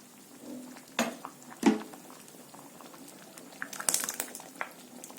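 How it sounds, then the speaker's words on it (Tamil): A pot of sambar made with vallarai keerai bubbles and simmers softly at close range, with a couple of sharp clinks of utensils against it. "குழம்பு நல்லா கொதிச்சிருச்சு."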